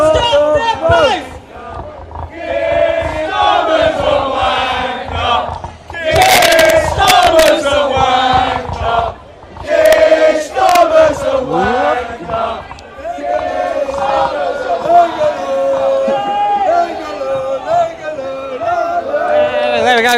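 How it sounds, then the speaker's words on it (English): Protest crowd outside Colchester Town Hall chanting "stop the boats" in loud, rhythmic unison, voices rising and falling in repeated waves, close and dense, with shouts and cheers mixed in. "We can hear the crowd, laden crowd"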